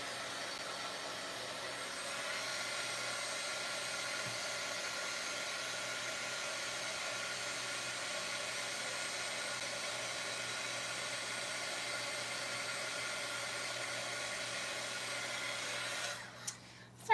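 A heat embossing gun blows steadily at a card-making desk, a constant even whoosh held at moderate level for most of the clip before cutting out near the end with a few soft knocks.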